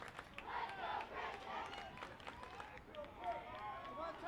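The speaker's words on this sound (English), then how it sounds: "Home crowd, little energized." A home student crowd at a high school boys' lacrosse championship at Morristown-Beard cheers and murmurs steadily, a busy wash of voices and shouts swelling and dipping under a commentator's talk.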